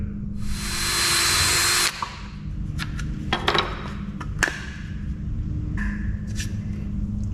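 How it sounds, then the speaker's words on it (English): An 1/8 inch bit in a power drill bores out a rivet on lawn care equipment, a loud steady whine for about two seconds, then fading with scattered metallic clicks and taps over low background rumble. "Removing rivets is a relatively straightforward job. You just have to drill out the center of it."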